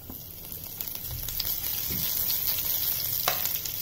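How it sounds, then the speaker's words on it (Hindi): Green chilies sizzle in hot oil in a pan, a steady close hiss that builds slightly over a few seconds, with no one talking. "अब हम डालेंगे इसमें ये हरी मिर्च"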